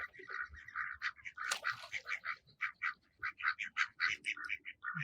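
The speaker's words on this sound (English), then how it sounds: "Here's a white duck quacking at the other ducks." A white duck quacks repeatedly at other ducks, a close, rhythmic series of nasal quacks in quick succession, with other ducks calling faintly near the end.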